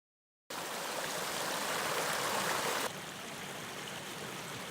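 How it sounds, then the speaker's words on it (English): A creek runs beside a hiking trail on the Ouachita National Recreation Trail, a steady broadband rush of flowing water that starts abruptly, then drops slightly in level partway through, continuous and close with no voices. "It kind of follows the creek here."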